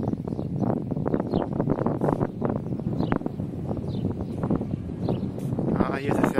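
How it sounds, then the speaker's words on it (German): Gusty wind on a boat at sea off Antalya buffets the microphone in a steady low rumble, with a voice talking over it throughout. "Ah, hier ist es sehr windig."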